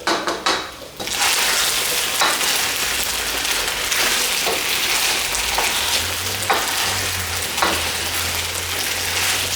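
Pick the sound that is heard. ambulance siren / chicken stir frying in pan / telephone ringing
chicken stir frying in pan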